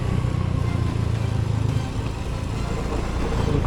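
Motorcycle engine droning steadily while carrying a heavy load on a rough, badly damaged rural road in Batangas, a continuous loud rumble with road noise and no pauses.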